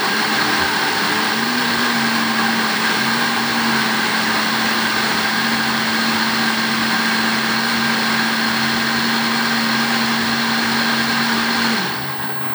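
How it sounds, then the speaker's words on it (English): A Ninja blender whirs at a steady high pitch, blending pineapple, mango and banana for baby food, running loud and continuous for about eleven seconds before winding down. "put it inside your blender"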